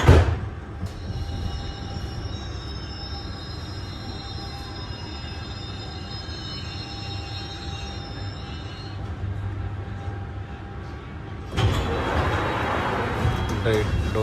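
A London Underground Hammersmith and City Line train to Barking runs with a steady low rumble and faint wheel whine, then a louder, brighter surge of track noise near the end, with a recorded announcement voice heard.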